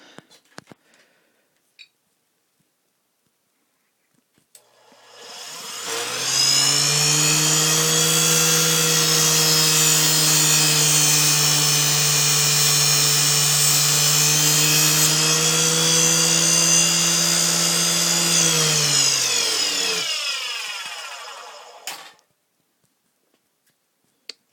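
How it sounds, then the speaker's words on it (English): A Dremel rotary tool grinds through metal stock to make a lock-picking tension wrench: a loud, steady high-pitched whine that holds for about fifteen seconds, then spins down, with faint clicks before and after. "I'm going to take and get my Dremel thing over here, and I'll take and whack that off for you."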